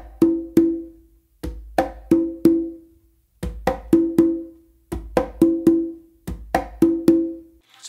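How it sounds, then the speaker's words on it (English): Conga playing a cha cha cha variation: a muted bass tone and closed slap from one hand followed by two ringing open tones from the other, repeating in a steady pattern, close and alone. "I'm actually doing a bass close slap with my non-dominant hand and then two opens with my dominant hand on the conga"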